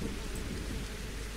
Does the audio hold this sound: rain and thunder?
yes